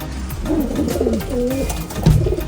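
Caged pigeons coo close by in soft, rolling, repeated calls over a steady background hum, ending with a brief rustle.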